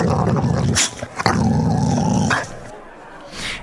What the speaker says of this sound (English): This is Basil eating a corn on the cob.